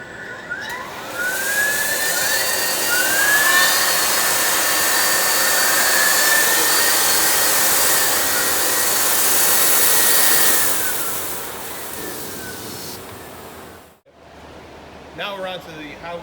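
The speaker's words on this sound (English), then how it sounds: "So I'm going to turn on our vacuum loaders." Loud, steady broadband roar of vacuum loaders on a Motan GC-100 plastic material blender running continuously, with a faint rising whine, cutting off abruptly near the end before a brief clatter.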